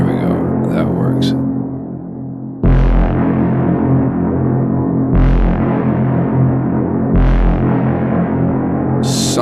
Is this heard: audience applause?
no